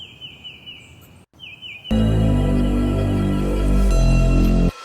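Bird chirps used as a Foley layer in an EDM project template, with faint repeated tweets at first, then a loud, dense musical build that largely buries them.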